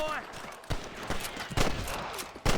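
Gunfire rings out in the Western video game Red Dead Redemption, with several sharp separate shots spaced across the clip amid game ambience and faint speech.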